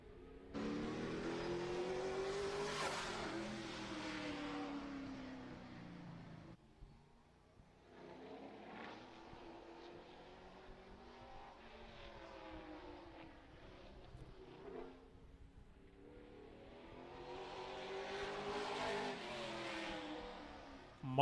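Race car on qualifying laps at Madera Speedway, a one-third-mile oval, during the Harvest Classic; a loud engine rises and fades as the car passes, with a brief lull before it roars again through the turns.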